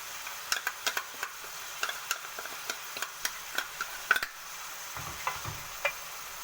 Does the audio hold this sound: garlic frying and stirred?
yes